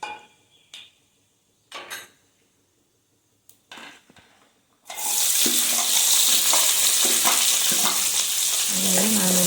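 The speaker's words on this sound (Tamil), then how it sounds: "வெங்காயத்தை போட்டு நல்லா வதக்கிக்கலாம்." Chopped onions drop into hot oil in a pan for jackfruit seed kurma, bursting into a loud, sustained sizzle with stirring and utensil clinks, after a few quieter clatters and taps at the start.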